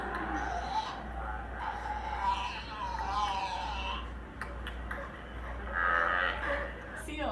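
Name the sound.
seal vocalizing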